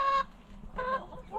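A backyard chicken clucks in a few short, harmonic bursts close to the microphone, separated by brief pauses in an otherwise quiet morning setting.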